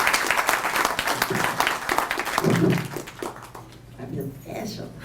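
Applause from an audience at a spring community event, greeting a newspaper staffer invited up to speak; dense clapping fills the first few seconds, then thins and fades as a voice begins talking.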